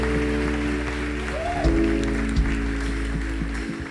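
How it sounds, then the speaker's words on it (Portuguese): A church congregation applauds its friends during a worship service, a steady wash of clapping over sustained musical tones, with a couple of louder thumps partway through. "Eu queria pedir uma salva de palmas para todos os nossos amigos."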